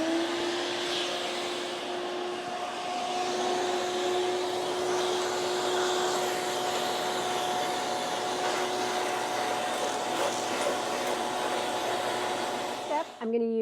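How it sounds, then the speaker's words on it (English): A vacuum cleaner runs steadily while vacuuming out the interior of a Camaro, its loud, constant whine and airy roar holding nearly unchanged before cutting off abruptly near the end. "You guys want to watch us vacuum a car?"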